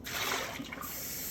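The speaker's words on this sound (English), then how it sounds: "Let in the hot water" Hot water runs from a tap for rinsing, a soft, steady hiss of flowing water that stays faint and close for just over a second.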